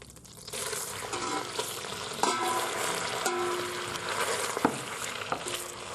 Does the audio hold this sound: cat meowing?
no